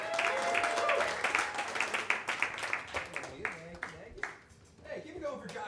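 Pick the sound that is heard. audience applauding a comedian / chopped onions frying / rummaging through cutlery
audience applauding a comedian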